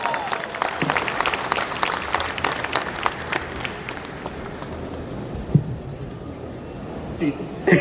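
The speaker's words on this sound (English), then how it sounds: "Resounding applause, ladies and gentlemen" A conference audience welcomes Shashi Tharoor with loud applause at an HR event hall, dense clapping that gradually thins and fades, with voices murmuring underneath.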